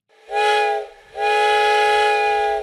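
A steam train whistle gives two loud, sustained blasts, the first shorter and the second long and steady, alone with no voices, evoking a train bound for the fair in Leipzig.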